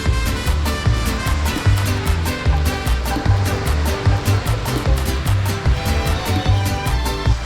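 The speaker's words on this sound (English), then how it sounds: "the waterfalls that pour into the pool" Waterfalls pour steadily into a hotel swimming pool on Hollywood Beach, a dense, continuous splashing rush with no pauses, loud and close throughout.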